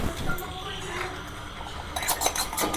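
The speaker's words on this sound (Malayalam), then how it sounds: "കറി നന്നായിട്ട് ഇളക്കി കൊടുക്കും" A curry is stirred in a pan with a metal utensil, giving scraping and clinking under some background talk, with sharper clinks near the end.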